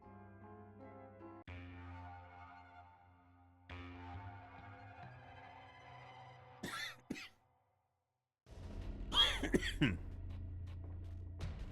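A man coughs and clears his throat during a Binding of Isaac: Repentance game stream, with a couple of sharp bursts around the middle and a louder, rougher fit near the end over soft game music.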